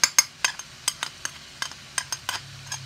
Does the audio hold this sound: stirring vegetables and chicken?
yes